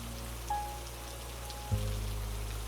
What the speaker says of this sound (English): Rain behind the glass.